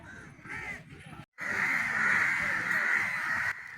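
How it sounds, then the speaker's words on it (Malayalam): A flock of crows in trees by a temple at the Aluva Manappuram Shivaratri festival caws loudly and continuously, harsh calls overlapping into a dense chorus, with a brief pause before the racket resumes. "മരക്കൊമ്പുകളിലിരുന്ന എല്ലാ കാക്കകളും കൂടിയിട്ട് ഒരു പാട്ട് കച്ചേരി നടത്തുന്നുണ്ട് കേട്ടില്ലേ"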